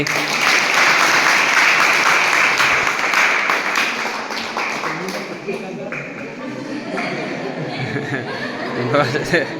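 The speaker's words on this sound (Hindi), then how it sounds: "जोरदार ताली" Loud, dense applause fills a birthday celebration, sustained at first and then thinning out, with chuckles and voices talking over the clapping.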